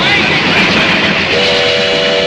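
Train horn or whistle sounding over the steady roar of a moving train, loud and continuous, with a sustained tonal blast rising near the end.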